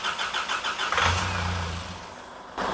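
Nissan Patrol engine cranking over with a rapid starter whirr, then catching and settling into a low rumbling idle, close and moderately loud, ending with a sudden burst of noise.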